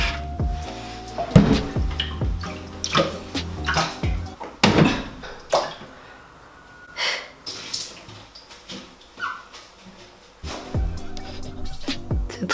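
Water from a bucket is emptied during aquarium cleaning, heard as scattered splashes and pours with clunks of the bucket and faint breathing between them, irregular bursts close by in a quiet room.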